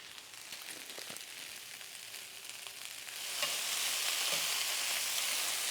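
Sliced zucchini half-moons fry in a beef stir-fry pan with ginger, garlic powder and soy sauce, a soft crackle that swells into a louder, steady hiss partway through. A few faint utensil knocks sound, and no one talks.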